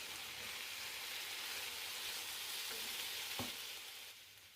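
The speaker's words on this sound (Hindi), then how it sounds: "थोड़ी थोड़ी देर बाद आलू में इस तरह से चम्मच चलाते रहें।" Potato pieces fry in oil in a skillet with a soft, steady, rain-like sizzle, broken by a single brief scrape of a spoon stirring them near the end.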